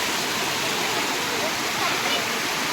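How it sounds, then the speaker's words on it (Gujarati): A heavy torrent of water pours down at Pavagadh, Gujarat, during rain, a constant close roar that fills every moment without a break. "પાણી તો જબ્બર પડે"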